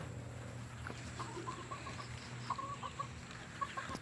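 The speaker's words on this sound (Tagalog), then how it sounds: "Mga native chicken ito guys." Native chickens cluck softly inside their coop, with scattered short clucks growing more frequent toward the end over a low, steady background hum, heard at a moderate distance.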